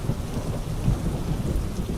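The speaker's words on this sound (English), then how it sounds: "the thunder and rain will linger a little longer, keeping you company in the quiet of the night." Thunder with rain: a low, rolling rumble under a constant hiss of rainfall, steady throughout.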